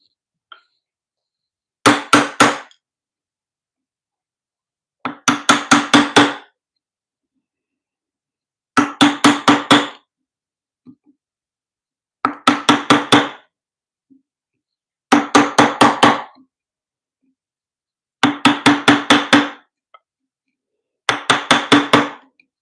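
Seven tight bursts of sharp, rapid hammer blows strike a mortise chisel driven into wood, each volley of several quick metallic-wooden knocks separated by a few seconds of silence; loud and close, with no talking.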